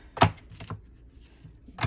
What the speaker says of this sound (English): So riffling is a go with these